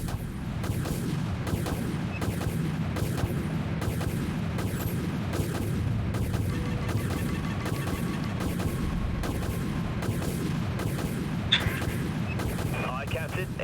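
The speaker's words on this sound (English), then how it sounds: "Enemy missiles incoming," Repeated booming missile impacts and explosions in a naval combat video game, a steady dense barrage of blasts rumbling continuously throughout, loud and close, with faint talk mixed underneath.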